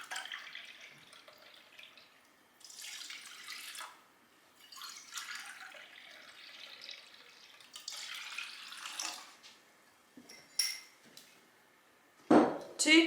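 Water runs from a tap into a container while pickling brine is made for pickled radishes. The flow is faint and comes in several short bursts, and light clinks of kitchenware are heard near the end.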